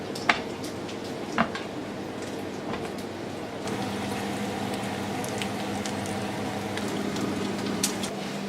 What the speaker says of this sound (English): I'm going to chuck the eggs in now, get them fried up nicely